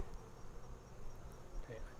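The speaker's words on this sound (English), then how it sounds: "Here's a bee full of pollen." Honeybees buzz around a beehive in fall, a steady, faint, droning hum of many wings with a few nearer passes, and no speech.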